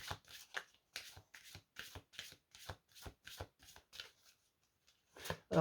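Tarot-style cards shuffled by hand during a divination reading: about ten quick, dry riffling bursts in a steady rhythm, close and clear, then a short pause before a final louder shuffle. No one speaks.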